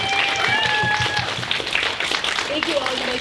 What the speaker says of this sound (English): Why don't we give it a big round of applause